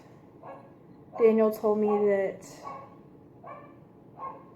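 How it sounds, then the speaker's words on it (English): Close, loud, tonal yelps come from a dog in a residential neighborhood, a short burst of two or three in a row, with a person talking quietly before and after them. "I don't know if you can hear the dog barking"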